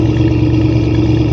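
A 2021 RAM 2500 Power Wagon runs with its stock exhaust before the mod, giving a steady, loud, low engine drone with no change in pitch.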